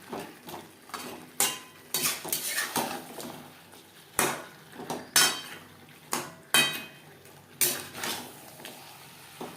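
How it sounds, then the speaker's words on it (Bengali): Fish head being stirred together with potatoes and spices in a pan for Bengali macher mathar kalia, heard as repeated sharp clanks and scrapes of a utensil against the metal pan at an irregular, close rhythm. "আলু ও মশলার সাথে মাছের মাথা বেশ ভালো করে মিক্সড করে দেবো"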